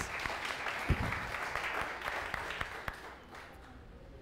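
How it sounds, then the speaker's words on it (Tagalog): Church congregation applauding at a Sunday service, a dense wash of clapping with one sharp louder clap near the start, fading somewhat toward the end. "The best pong palakpak para kay Jesus"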